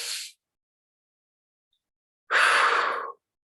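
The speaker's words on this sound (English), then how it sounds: "Take a nice deep cleansing breath." A deep cleansing breath during shamanic breathwork, with a short airy tail at the start, silence, then one long, clear, close exhale lasting almost a second.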